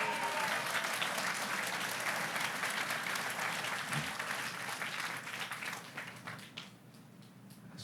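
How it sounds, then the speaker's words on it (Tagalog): Sustained audience applause fills a speech gathering among friends, a dense wash of many hands clapping steadily, then thinning and fading toward the end with no talk over it. "Sarap naman ng palakpak nyo,"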